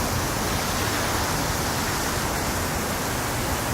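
Fountains at the Seagram Building on Park Avenue, New York, give a dense, unbroken rush of falling water that holds steady and loud from start to finish.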